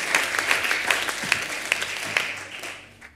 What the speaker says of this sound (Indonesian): Tepuk tangan sekali lagi buat Tuhan Allah kita yang dahsyat.